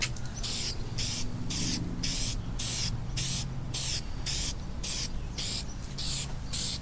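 Spray can applying a wet coat of paint to the emblem on a Ram 1500 truck during a chrome delete, hissing in about ten steady, evenly spaced bursts, close and loud with no talking.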